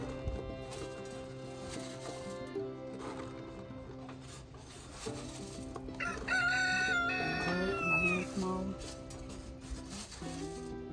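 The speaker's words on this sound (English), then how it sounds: "I think the rooster is talking to me." A rooster crows on a farm where watermelon, tomatoes and beans are grown, a clear cock-a-doodle-doo rising midway, with fowl clucking and other farmyard sounds around it.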